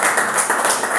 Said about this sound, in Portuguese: Por favor, vamos mesmo aplaudir, receber aqui o Antônio Nunda.